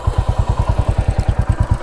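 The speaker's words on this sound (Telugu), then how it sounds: "ఇదన్నమాట ఇంజన్ ఒక బీట్ అండ్ నాయిస్" A 2025 Royal Enfield Classic 350 stealth black motorcycle idling after a start, its single-cylinder engine thumping in a steady, fast, even beat, loud and close with a mechanical clatter on top.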